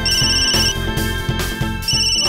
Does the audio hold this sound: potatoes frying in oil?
no